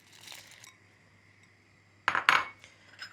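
Pearl barley is added to a pot and stirred: a quiet, faint background gives way to a short burst of metal spoon clinks and scrapes against the pot.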